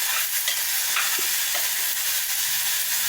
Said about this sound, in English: I'm adding the ready-made ginger garlic paste.